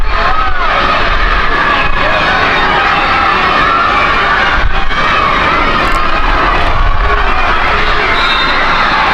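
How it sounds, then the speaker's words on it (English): A large crowd roars and cheers steadily at a camogie match between Carraig na bhFear and Inch, a dense, continuous wall of voices with no break across the whole stretch. "The crowd are getting involved now."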